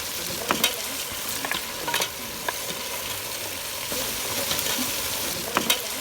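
A mixed vegetable curry of pumpkin, brinjal and raw banana stirred in a pan, with a steady sizzle and scattered spoon scrapes and clinks against the metal, near and clear, no talking.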